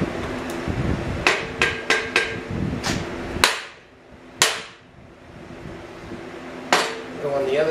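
A hammer strikes the steering knuckle of a Jeep Wrangler to free a corroded, rusted hub bearing. Close, sharp metallic clanks come in irregular bursts with short pauses between them.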